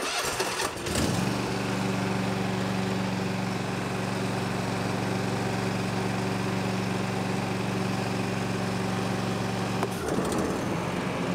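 Bad Boy Maverick riding lawn mower engine spinning up: a short rough surge, then a loud, sustained steady drone at high RPM for about nine seconds before dropping off abruptly.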